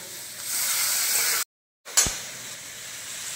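Turmeric, chili, coriander and cumin powders cooking with a splash of water in a pan give a steady soft sizzle that cuts out briefly, then returns after a sharp clank.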